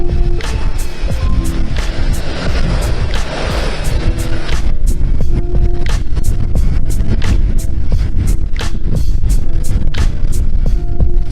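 Heavy trucks hauling stone and sand rumble past along a dusty road, a loud, steady low roar of engines and tires with wind noise, heard up close and sustained throughout with sharp clicks over it.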